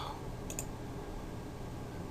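A computer mouse clicked on a website link, two quick faint clicks close together over quiet room hum.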